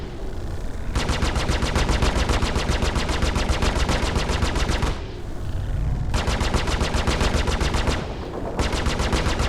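Panther repeater ship guns in the space game Star Citizen fire in long sustained bursts of rapid, evenly spaced shots, loud and close, with two brief pauses between volleys.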